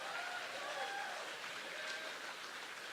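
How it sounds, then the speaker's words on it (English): Audience applause for a group of young fiddle players aged 12 to 22 at a fiddle championship, a steady dense wash of clapping throughout, with faint voices or tones drifting above it. "let's keep on clapping for the whole group here, folks"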